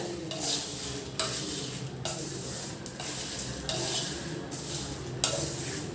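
Dry ginger and spices dry-roasting in a pan over a low flame, with a steady close scraping and stirring that swells in regular strokes roughly every second, no voices.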